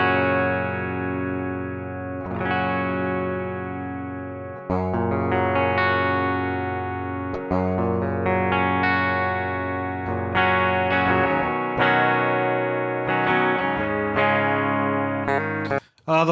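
Clean electric guitar played straight into the interface with an Alnico 5 magnet pickup, dry and unprocessed: sustained chords and picked notes ringing out in a steady loud stretch, alone with no talking.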